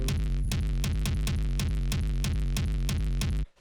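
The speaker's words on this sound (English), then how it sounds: "The next thing we have here is this bass kick layer" A booming industrial techno bass kick layer pounds in a steady fast four-on-the-floor pattern with heavy low thumps and sharp clicks, loud and alone, then cuts off abruptly.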